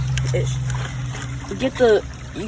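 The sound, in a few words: water splashing into a crawfish trap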